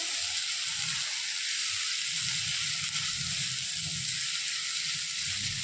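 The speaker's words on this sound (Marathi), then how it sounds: "2 मीडियम साईजचे टोमॅटो असे उभे उभे कापून घेतले ते घालते आणि ते पण आपण परतून घेऊया सोबतच." Sliced medium tomatoes sautéing in a pan for Punjabi-style mutton curry, a steady close sizzle and fry hiss holding evenly with faint low stirring movements beneath.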